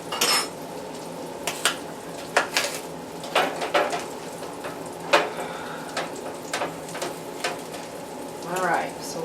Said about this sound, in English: So while the sausage is cooking